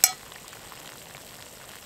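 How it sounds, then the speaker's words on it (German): A pot filled to about 1.5 liters boils over on a spirit-fuelled camping stove, its lid lifting, giving a sharp clack at the start followed by a steady close sizzling, sputtering hiss. "Also wenn es den Deckel hier hochhebt, dann kocht der Inhalt definitiv."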